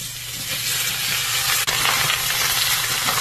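Steady, loud sizzling of boiled pork and pork caul fat frying in a wok, a dense continuous hiss with no talking.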